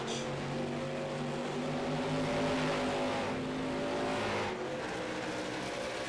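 USRLA late model race cars lap North Wilkesboro Speedway, engines roaring steadily as a pack under a blanket heads into turn one, the droning harmonic whine rising and falling in pitch as the cars pass, with no talk.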